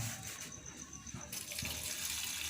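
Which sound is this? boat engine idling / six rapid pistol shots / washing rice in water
washing rice in water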